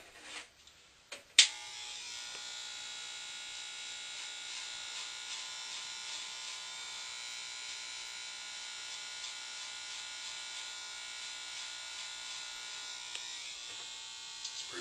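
Electric hair clippers buzz steadily and close during a light Caesar taper haircut, a continuous even hum after a brief knock at the start, with no talking.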